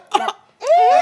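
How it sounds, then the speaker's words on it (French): A short, rough cough is followed by a longer strained, rising vocal rasp, close and loud. "Il y a des toux comme ça."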